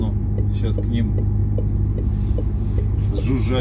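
A truck's refrigeration unit buzzes beside a parked rig at an unloading stop in Yekaterinburg, a steady low hum and drone with faint ticking, while someone speaks over it.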